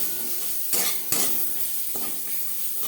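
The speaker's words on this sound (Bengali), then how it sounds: "কারি পাতা ভাজতে খুব একটা বেশি সময় লাগে না" Curry leaves fry in oil over a low flame with a continuous soft sizzle, broken by a few sharp scraping strokes of a spoon stirring the pan.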